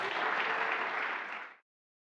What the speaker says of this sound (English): a final round of applause for Anu